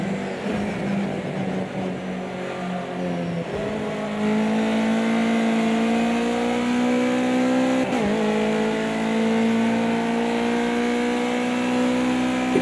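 A Ginetta Junior race car's engine drones close up, dropping in pitch as it brakes into a corner, then rising steadily as it powers out, with a brief dip at the gear change.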